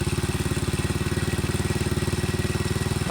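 Motorcycle engine idling steadily while its carburetor idle is adjusted, a close, even, rapid thumping beat with a light mechanical clatter and no change in pace.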